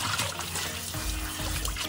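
Cold tap water runs and splashes steadily over blanched napa cabbage being rinsed in a kitchen, a continuous close trickle and pour with no talking.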